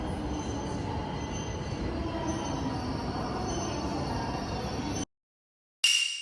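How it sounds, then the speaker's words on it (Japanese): Yamagata Shinkansen Tsubasa and Tohoku Shinkansen Yamabiko trains pass close by with a loud, steady roar of wheels and rushing air and a high squeal, then it cuts to silence before a brief burst returns. "この電車は山形新幹線翼と東北新幹線やまびこ。"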